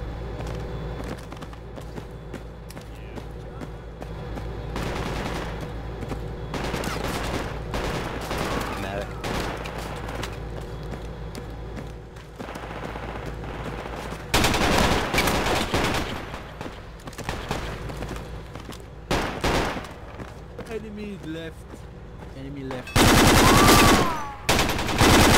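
Gunfire in the game Project Reality during a close-quarters fight at a T-shaped building: dense, loud bursts of rifle and machine-gun fire, with a heavier cluster of shots near the end and a voice calling out over it.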